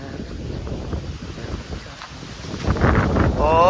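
Cool wind buffets the microphone in uneven rumbling gusts that swell louder toward the end, with a faint voice briefly audible beneath the noise.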